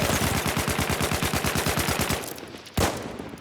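Rapid automatic gunfire in Battlefield 6 rattles out in a fast, even burst of close, loud shots for about two seconds, then stops, followed by one sharp single crack.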